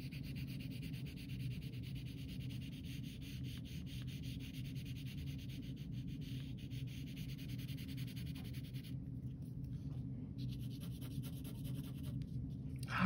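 A pencil tilted on its side shading across paper, a soft, continuous dry rubbing and scratching close up, steady and even with a few brief pauses, with no talking.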